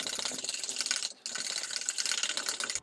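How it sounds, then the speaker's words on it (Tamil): A whisk beats oil, curd and milk in a cup with rapid, continuous clinking and rattling strokes, briefly pausing partway before resuming; close-up and moderately loud, no speech. "இப்போ இதை நல்லா ஒரு விஸ்க் வச்சு அடித்து எடுத்துக்கலாம்."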